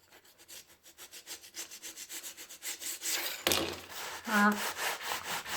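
A scraper rasps back and forth over a parquet floor, removing excess acrylic sealant in a steady rhythm of strokes that build louder, with a brief clunk and squeak near the end.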